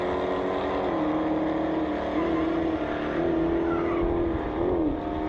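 A big old Oldsmobile and a Dodge Challenger launch in an ET bracket drag race, their engines rising and falling through repeated revving surges at moderate distance with no one speaking.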